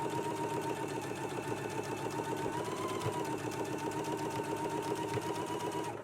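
Sewing machine stitching fold-over elastic onto a garment neckline, a fast, steady, continuous mechanical whir at close range with no pauses, running alone throughout.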